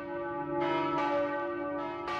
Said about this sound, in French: le son des cloches contrôlait chaque instant de leur vie